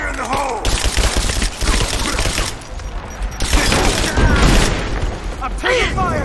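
Combat in the Rise of the Tomb Raider video game: bursts of gunfire and heavy booming explosions, loud and close, with shouted voices over the fighting.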